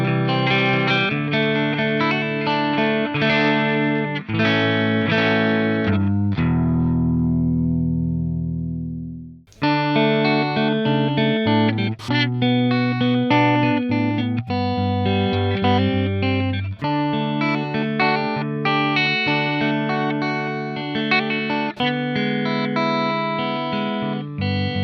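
A Gibson SG electric guitar runs through an EQ pedal set for a Gretsch Filtertron-like tone, playing bright chords and riffs with a short pause, loud and up close with no talking.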